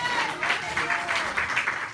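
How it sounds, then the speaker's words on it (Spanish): A church congregation applauds during a Spanish-language sermon, a moderately loud wash of many hands clapping with rhythmic pulses. "¿Alguien puede aplaudir a Jesús en esta hora?"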